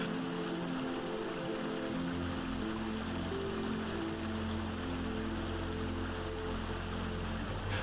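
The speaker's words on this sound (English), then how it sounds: "visitors can hear the roar of the water right from their tents" Waterfall on the Abiskojakka River in Sweden, a steady broadband rush of falling water, continuous and even throughout, with a low rumble emerging beneath it partway through.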